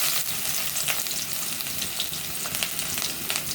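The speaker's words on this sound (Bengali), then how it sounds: "কড়াইয়ে তেল দিয়ে দিয়েছি, গরম হয়ে গেছে। এখন দিয়ে দিব পেঁয়াজ কুচি" Chopped onions dropped into hot oil in a kadai for a Bengali prawn and radish dish, producing a lively close sizzle with crackling bursts and stirring scrapes, no voices over it.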